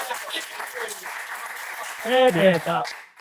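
Applause from a live podcast audience swells beneath a man's speech, a steady patter of clapping that rises toward the end and then fades.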